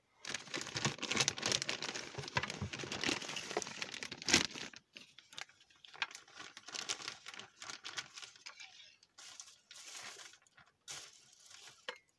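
A plastic shopping bag is handled, giving dense crinkling and rustling that is loud and busy at first, then turns into sparser, lighter crackles and rustles with short pauses.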